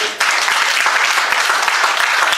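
Loud, dense applause from a crowd at a wedding ceremony in a town hall, a steady wash of clapping close by that continues without a break.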